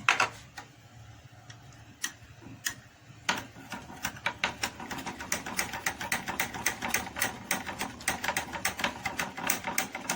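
Labsa and Texapon being stirred together by hand for liquid soap, giving rapid, close, irregular clicking and tapping strokes that grow denser and steadier after the first few seconds, with no voices.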